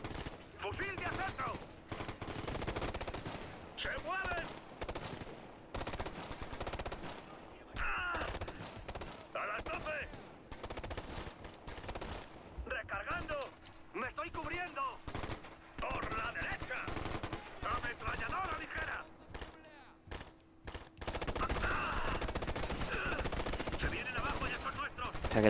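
Bursts of light machine gun fire in the Ghost Recon: Future Soldier video game, rapid rattling volleys mixed with other gunshots, loud and continuous across the scene and broken by short pauses, with shouted voices in between.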